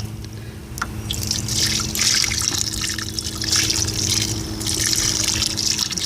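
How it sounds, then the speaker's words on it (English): Rainwater poured onto garden plants, a close, gentle trickle and patter of water that runs continuously over a faint low background hum, with no speech. "I'm just going to water them with a little rainwater"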